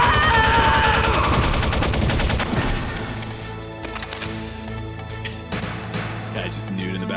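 Loud rapid gunfire from Metal Gear Solid, a dense burst of repeated shots lasting a couple of seconds, then scattered impacts over game music and effects, with voices in the background.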